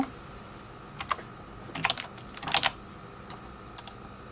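A phone brand is entered on a computer keyboard: a few scattered, close keystrokes and small clusters of taps with brief pauses between them, quiet and alone without speech.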